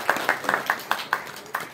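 An audience at a Jain religious discourse claps in a quick, even rhythm, with a string of sharp, distinct claps at close range.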